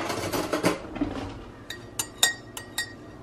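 A spoon stirs coffee in a cup, giving a series of light metallic clinks against the ceramic, a few soft ones followed by sharper isolated taps, close and quiet.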